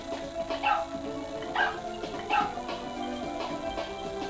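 Short barks from the undo dog in the Super Mario Maker video game, three or four quick yips spaced about a second apart over steady background game music.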